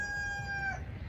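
The drawn-out tail of a rooster's crow rings close and clear outdoors beside a backyard chicken coop, a single sustained call fading at the end over light background noise.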